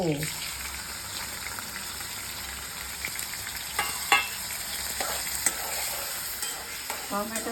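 Tomato drops into hot oil with spluttering cumin seeds, a steady sizzle and hiss with stirring clatters and a sharper knock partway through, heard up close at moderate loudness.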